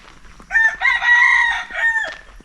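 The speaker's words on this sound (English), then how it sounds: "Chickens." A rooster crows once in a village in Laos, a long drawn-out cock-a-doodle-doo rising and holding, close by with faint outdoor background.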